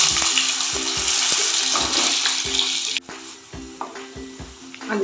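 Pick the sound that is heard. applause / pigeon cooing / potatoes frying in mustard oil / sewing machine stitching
potatoes frying in mustard oil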